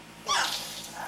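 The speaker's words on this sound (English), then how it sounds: "What is it, a doggy?" A dog gives a single short, high whining yelp, close and fairly loud, in a room during Christmas present opening, with a faint voice nearby.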